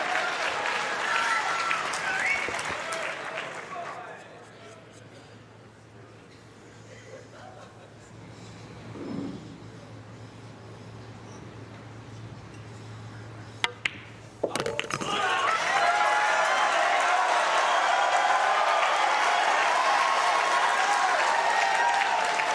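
Mosconi Cup pool arena crowd applauding during the Tyler Styer vs Joshua Filler match, a loud sustained burst at the start, a quieter stretch, then strong clapping returning near the end.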